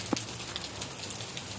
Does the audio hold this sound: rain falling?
yes